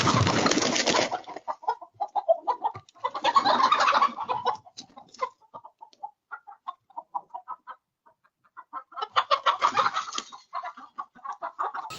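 Chickens in a farmyard squawk and cluck in frantic bursts as a hungry bear chases them around, loud flurries near the start, middle and end with scattered clucks between.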